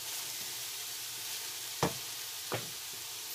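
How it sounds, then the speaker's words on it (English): Tomato sauce goes into a hot pan of drained browned meat for homemade lasagna: a steady hiss of sizzling broken by two sharp knocks against the pan. "now it is time to add the tomato sauce"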